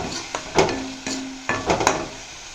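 Onions sauté in a pan for a drumstick leaf stir-fry, a soft sizzle broken by a few sharp spatula scrapes and knocks against the pan, close and fairly quiet.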